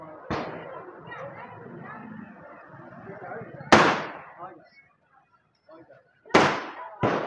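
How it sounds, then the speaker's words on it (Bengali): Diwali night firecrackers and fireworks bursting at a three-way street junction in Mumbai: several loud, sharp bangs spaced seconds apart, two close together near the end, with someone talking excitedly over the quieter stretches. "এদিকে দেখো বোমগুলো চারদিকে ফাটছে, দেখো দেখো দেখেছো, এই 3 রাস্তার মোড়ে কিন্তু সব বোম ফাটাচ্ছে।"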